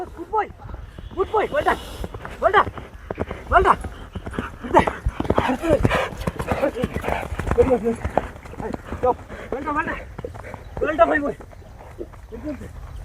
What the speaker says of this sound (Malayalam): കുതിരനെ ട്രാക്കിൽ ഇറക്കി നോക്കിക്കൊണ്ടിരിക്കുകയാണ് കുതിര ഓടിച്ചുകൊണ്ട് നോക്കിക്കൊണ്ടിരിക്കുകയാണ്